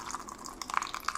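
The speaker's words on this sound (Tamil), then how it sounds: "அதை புளி தண்ணி ஊற்றணும்" Tamarind water pours into a fish curry of sardines with mango pieces, making soft gurgling, dripping splashes close by, with no talk.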